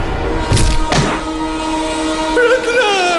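A Churchgate local train approaching, a loud rumbling rush with metallic thuds and a tonal horn-like whine rising near the end, heard close and alone.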